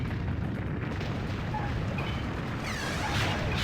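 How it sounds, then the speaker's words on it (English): A heavy explosion rumbles through a Godzilla Unleashed monster battle on the Wii, with a dense low roar that keeps on and swells near the end. "Okay, so that's an explosion."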